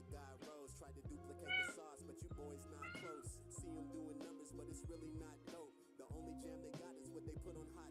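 A house cat meows several times, near and fairly clear, the short rising and falling cries scattered across the stretch over a soft background with a voice faintly present.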